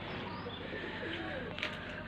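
Pigeons coo softly amid steady outdoor background noise, with a brief flutter or chirp near the end; no one speaks.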